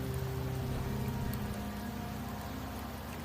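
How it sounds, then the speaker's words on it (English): A steady, even wash of rain falls in Septimont in Wuthering Waves, a soft continuous patter with low droning tones underneath and no other sounds. "The rains in Septimont never seem eager to leave this season."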